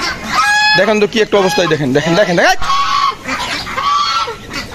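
Ducks and chickens, including crested Chinese ducks, honk and cluck at close range as their coop door is opened, the birds' calls running loud and overlapping while a person talks over them.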